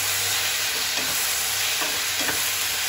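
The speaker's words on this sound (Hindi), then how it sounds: "इसे अच्छे से मिला लेंगे।" Vegetables stir-fried in hot garlic sauce with tomato ketchup crackle and sizzle steadily while a utensil scrapes and stirs through them in a few strokes, close and alone.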